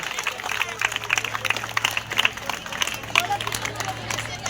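An audience claps at a retirement function for a teacher at Karapada high school, a dense patter of hand applause under a loud voice speaking over it.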